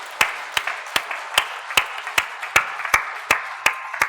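A church congregation at a Korean Sunday service claps in slow unison, with about a dozen evenly spaced, crisp claps in a steady rhythm and no talking.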